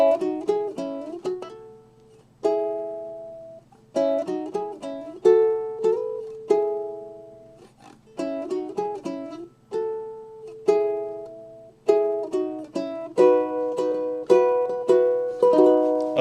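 A ukulele plays a quick melodic embellishment on the second and third strings, rapid plucked notes ringing in short bursts with brief pauses, close and clear with no talking.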